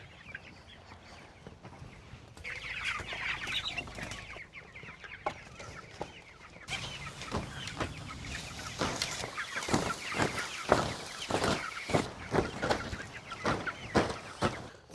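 Chickens cluck steadily on a pasture farm where they are moved in chicken tractors, with many overlapping close calls and short rustling bursts that grow busier and louder partway through.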